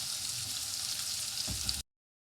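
Cumin and salt frying in a pan for Nepali milk bread, a soft steady sizzle with a faint stir near the end, close and alone.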